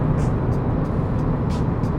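A BMW M5 F10 braking on the road, heard from inside as a steady, fairly loud low rumble of road and engine noise with faint brief hisses, no clear squeal.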